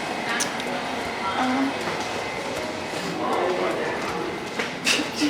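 A London Underground train at Brixton rumbles and hisses along the platform in a steady, fairly loud wash of rail noise, with brief squeals near the end and people talking nearby.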